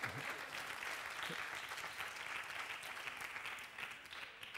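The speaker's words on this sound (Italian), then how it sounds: "applaudite" Steady audience applause at an Internet Festival 2014 stage event fills the clip with a dense, even wash of clapping from a seated crowd, heard at a moderate, slightly distant level and fading a little toward the end.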